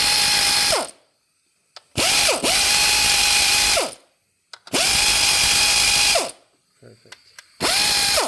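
Power ratchet spinning out 10mm ignition coil bolts on a Nissan Frontier engine, three loud close whirring bursts of about a second each with quiet gaps and small clicks between.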